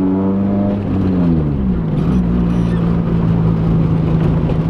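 A Nissan Kouki car engine revs while driving, loud and close, with a steady droning tone that dips and then settles into a constant rumble.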